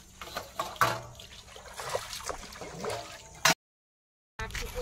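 Dishes are washed and scrubbed with water in a Sundarban village. Water trickles and splashes close by in uneven bursts, with a brief full cut to silence near the end.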